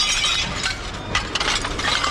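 Broken glass items clink and chink as they are handled and shifted at a dump, with several sharp clusters of contact close by over steady background noise and no speech.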